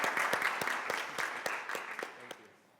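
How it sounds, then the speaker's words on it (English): A conference audience at a panel on women-owned small businesses gives a round of applause, moderately distant clapping that is lively at first and then thins and fades out by the end. "round of applause for him."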